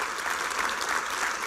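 A church congregation applauds the King, dense and steady clapping from many hands that fills the room without a break.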